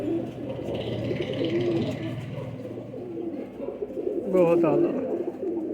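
Rampuri pigeons coo close by in low, murmuring bursts, while someone talks loudly over them throughout.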